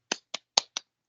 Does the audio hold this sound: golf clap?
yes